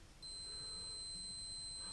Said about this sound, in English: mine will give an audible beep to tell me that everything's okay